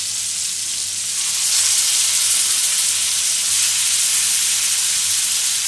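Pork tenderloin steaks sizzle steadily in hot butter in a frying pan, a loud, continuous close-up hiss that swells slightly after the first second and holds without pause.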